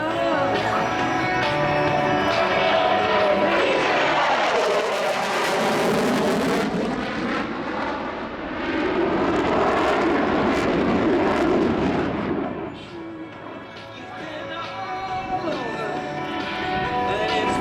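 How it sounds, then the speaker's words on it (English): An F-16 fighter jet roars through an air show demonstration in Australia, a loud sweeping engine rush that rises, swells and fades, with an announcer talking over it. "Major Briggs and U.S. Pacific Air Force's F-16 demonstration team from a third to the downward leg of the landing pattern."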